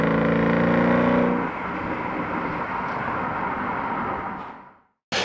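A 2009 Porsche Cayenne V8 4.8 S engine gives a loud, steady drone, with a tonal growl at first, then a broad rumble that fades away into silence.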